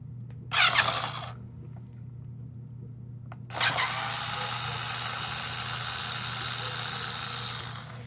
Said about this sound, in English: So we're going to unscrew all these screws.